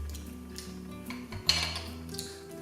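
A spoon scrapes and clinks against a dish, scooping up oysters and their fillings, with soft scraping and one sharper clink partway through, close and quiet.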